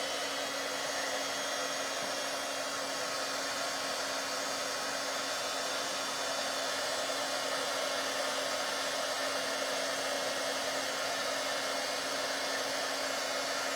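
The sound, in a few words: heat gun running for embossing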